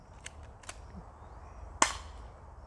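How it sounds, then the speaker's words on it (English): An airsoft gun fires one crisp, sharp shot in a quiet space, preceded by a couple of faint clicks, with no talking. "the test will be done with an airsoft gun"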